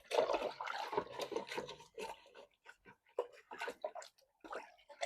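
A pot being scrubbed with a scrubber under water, with close, uneven bursts of wet scouring and splashing separated by short pauses.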